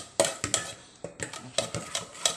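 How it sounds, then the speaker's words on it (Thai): Panang curry paste and pork stir-fry in a pan, heard as repeated sharp metallic scrapes and clinks of a spatula against the pan in an uneven rhythm, close, with only faint sizzle beneath. "เครื่องแกงพะแนงลงไปผัดนะคะ ทุกคน"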